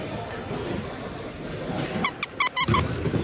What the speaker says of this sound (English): Little squeaky dog toy.